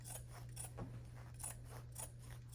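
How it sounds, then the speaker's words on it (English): Scissors snip through quilt binding fabric right beside the stitching, giving a run of crisp, close cutting strokes in a steady rhythm over a low, constant background hum. "I just cut right on the other side of the stitches"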